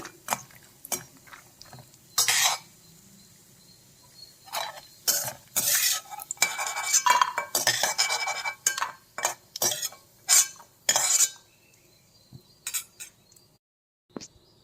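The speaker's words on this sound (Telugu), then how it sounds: "కొంచెం కలర్ వచ్చేదాకా వేయించుకోవాలి" Fox nuts (makhana) are roasted in a pan, likely in ghee, with a spoon stirring them. Repeated scraping and rattling strokes sound close by in irregular bursts, with short gaps between them and no speech.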